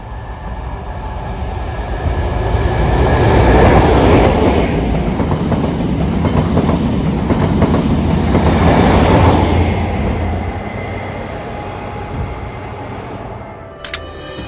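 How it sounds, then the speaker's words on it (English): HST high-speed train passing through a station at night, a loud rushing roar with rail clatter building over a few seconds, holding, then fading away, with a few faint clicks at the end. "last night I came to the station and there were a couple of HSTs through"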